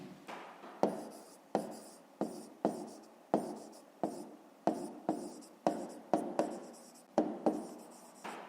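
Pen writing by hand on paper in close, rhythmic scratchy strokes, about a dozen short bursts spaced roughly evenly with brief pauses between, quiet room, no talk.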